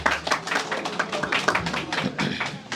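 An evening community gathering in France applauds an artist present in the hall, a brisk continuous clatter of many hands at moderate volume throughout.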